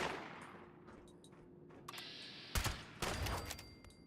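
Gunfire from the video game Fallout 76 breaks over a quiet ambient background. Two sharp, loud bursts of rapid shots come close together near the end.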